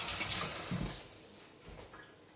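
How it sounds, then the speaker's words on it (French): Running tap water pours over hands being washed in a kitchen sink, a soft steady splash with faint bursts of louder water, heard close and alone. "Alors comme d'habitude, je me lave les mains."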